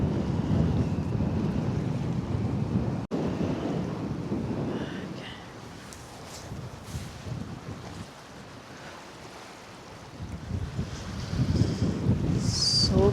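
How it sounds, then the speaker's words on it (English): Wind gusts by a river on a cold, breezy day, a loud continuous rumble buffeting the microphone that eases in the middle and swells again toward the end. "Yeah, just wind."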